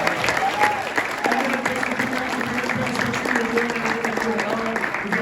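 An audience claps for San Francisco Giants player LaMonte Wade Jr. at a fan Q&A event, with sustained applause from a crowd mixed with background voices and cheering, fairly loud and continuous.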